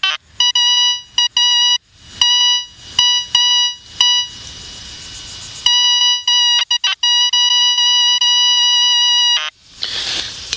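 High electronic beeping tones from a White's Beachhunter 300 metal detector in discriminate mode, broken into stuttering bursts and then held steadily, with brief rustles and a scrape near the end.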